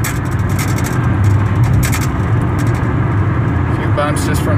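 A 1999 Ford Taurus cruises at about 60 mph on the highway, a steady, loud low road and engine rumble running throughout with wind noise and a person talking over it.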